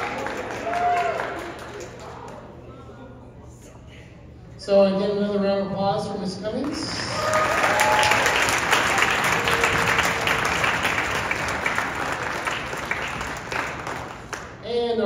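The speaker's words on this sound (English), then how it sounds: "another round of applause for Ms." Concert audience at a high school wind symphony spring concert bursts into sustained, dense applause that fills the room after a man's brief spoken introduction.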